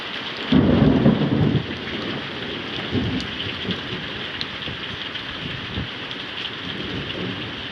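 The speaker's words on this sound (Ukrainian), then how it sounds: "І ось на вечір пішов дощик. Навіть грім десь" Steady rain patters on a surface while thunder rumbles, one louder roll early and softer distant rumbles after.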